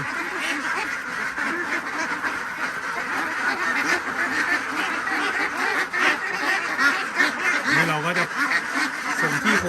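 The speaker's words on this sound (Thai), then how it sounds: "เรามีแต่เป็ดสาวล้วนนะครับที่มาส่ง" A flock of young Khaki Campbell laying ducks being delivered in Korat quacks continuously and loudly at close range, many overlapping calls forming a dense, busy chorus throughout.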